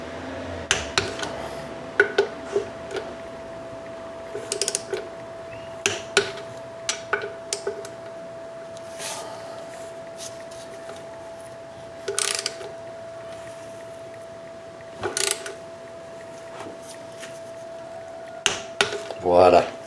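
Bolts on a 2012 Nissan Sentra are tightened to torque with a ratchet, giving scattered bursts of metallic clicking and clanks spread over about twenty seconds beneath a steady hum, near and moderately loud.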